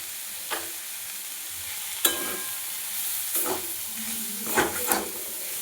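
Cauliflower sautéing with ground cumin and coriander in a pan: a low steady sizzle with several sharp scraping stirs of a spatula against the pan, close and fairly quiet, no voices.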